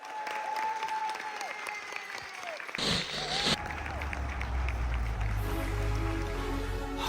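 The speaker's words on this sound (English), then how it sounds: "a round of applause up to the front" A crowd applauds at a Welsh talent show, steady clapping running under a brief whistle-like tone and then music starting toward the end.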